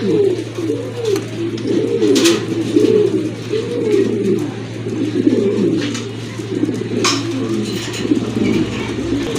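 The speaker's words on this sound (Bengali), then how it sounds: "আরেক জোড়া কবুতর চলে আসছে এখানে" Several pigeons coo steadily in overlapping, rolling calls at a pigeon farm, close and continuous, over a low constant hum.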